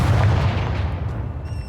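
A Confringo fire spell explodes in Hogwarts Legacy, a loud booming blast that decays over about a second and a half.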